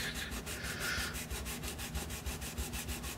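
Sandpaper held on a fret care tool rubs steadily back and forth over guitar frets, a close, continuous gritty scrubbing with a regular stroke rhythm and no talking.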